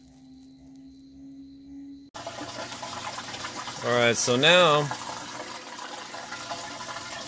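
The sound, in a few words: washing machine pump draining water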